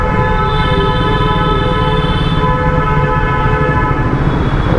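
A vehicle horn blares continuously and very loudly on a road in Uttar Pradesh, India, a steady close tone with no break, heard from a Triumph Scrambler 400X motorcycle.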